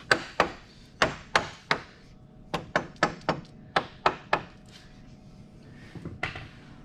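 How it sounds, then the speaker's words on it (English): Series of sharp dead blow hammer taps seating a snug KMOD front suspension part on a 2015 Polaris 800, about eleven distinct knocks in uneven clusters, close and fairly loud, with no talking. "the other side, it's pretty snug, so I give her a little bump with a dead blow."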